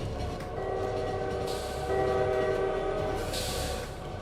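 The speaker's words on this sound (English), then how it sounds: "I thought I heard train noises off in the distance" Train sounds in a video game: a sustained horn-like tone and rumbling rail noise swell at moderate loudness, with no voices over them.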